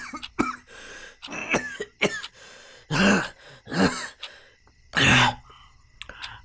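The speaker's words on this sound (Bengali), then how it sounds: "আবার কাশতে লাগল।" Repeated coughing and throat clearing from one person, close and fairly loud, with several harsh bursts and rough breaths spread unevenly over several seconds and no speech.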